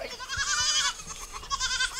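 A herd of goats bleating, several overlapping wavering bleats in quick succession, moderately close, in a short burst with no talking.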